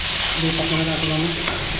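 Food fries in a pan while it is stirred, giving a steady loud sizzle with scraping, and a brief low voice hums underneath.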